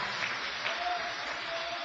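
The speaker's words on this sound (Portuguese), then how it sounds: "Vamos aplaudir também ao Senhor" A church congregation applauds during a service, a brief steady hiss of many hands clapping with a faint low murmur underneath.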